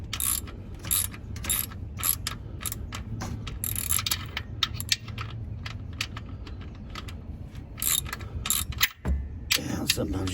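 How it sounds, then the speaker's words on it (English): Hand ratchet tightening a 16 mm oil drain bolt on a 2012 Chevy Cruze during an oil change, a close steady run of clicking pawl strokes in quick bursts with short pauses, alone without talk. "And then we're basically going to use our ratchet and tighten it up here."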